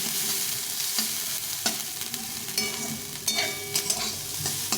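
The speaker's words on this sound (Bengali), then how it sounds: "পরে তেলটা দিলে এই তেলটা দিয়ে ভালো করে ভাজা হয়" Bottle gourd peel, potato and onion fry in hot oil, giving a steady close sizzle under repeated scraping and stirring taps of a spatula against the pan.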